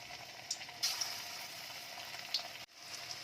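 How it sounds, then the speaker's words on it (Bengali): Chicken pieces fry in hot oil in a wok over a high flame for chicken Manchurian, giving a steady, close sizzle with a few sharper crackles and pops throughout. "ভালোভাবে চিকেনগুলোকে এখন ভেজে নেব, একদম লাল করে নেব"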